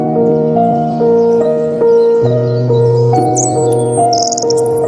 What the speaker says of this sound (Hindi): तभी वहां जादुई पक्षी आ पहुंचा।